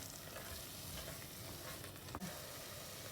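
Ground masala for prawn biryani sizzling in a pan as it is stirred: a continuous, even frying hiss at low volume, with one brief scrape near the end.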